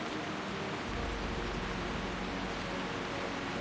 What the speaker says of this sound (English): Oh, rain coming. Really bad storm all of a sudden.